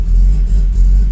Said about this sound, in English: As you can hear, lumpy idle